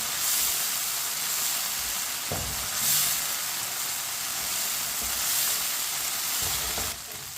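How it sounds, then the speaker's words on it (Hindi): Ginger fries in a pan for an aloo baingan curry, giving a steady close sizzle and hiss broken by a few brief bursts of stirring. "अदरक को भी 2 मिनट के लिए पका लेंगे।"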